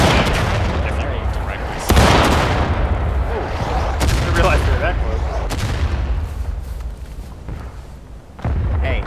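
Musket volleys in the Civil War game War of Rights, several loud sharp cracks and booming thumps spaced a few seconds apart amid a rolling battlefield din, with voices talking underneath.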